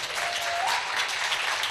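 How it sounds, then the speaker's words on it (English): Steady applause from a crowd, dense clapping filling the whole stretch at an even level with no voices. "I think from everyone's clapping"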